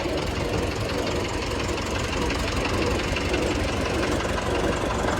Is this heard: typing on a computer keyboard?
no